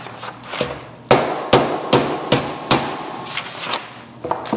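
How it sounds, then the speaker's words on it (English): A hammer strikes rocks in a series of about seven sharp, loud impacts at an uneven pace, each with a short crunching decay, close up and with no talking. "I'm going to take my hammer."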